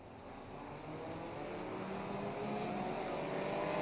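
Four-cylinder Ministock race cars roar around a track in a steady, building engine drone, a dense field of motors heard from a distance and rising slightly in loudness.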